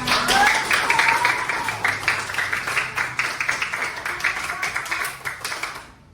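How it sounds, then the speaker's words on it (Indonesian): A classroom of students applauds after finishing their group posters, a lively patter of many hands clapping close by, with light pulsing and a quick fade at the end. "Tepuk tangan untuk kita semua."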